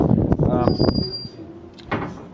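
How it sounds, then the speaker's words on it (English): The back door of a Ford Escort Mk1 van is shut with a couple of knocks and clunks while someone talks over it. "Let me shut this back door up because the draft is just coming straight through."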